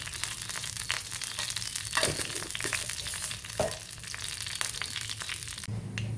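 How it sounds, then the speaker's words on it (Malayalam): Mustard seeds and fenugreek seeds pop and crackle in hot oil for a green chilli curry, a dense continuous frying hiss dotted with sharp snapping bursts and some stirring scrapes. "കടുകും ഉലുവയും പൊട്ടി വരണ്ട"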